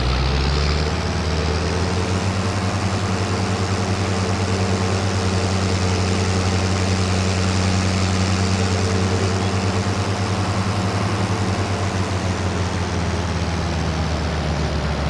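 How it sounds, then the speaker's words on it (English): Steady, continuous drone of an Ursus tractor engine in Farming Simulator 22, a low running rumble with strong low harmonics, loud and close throughout with no talking over it. "I do love this tractor."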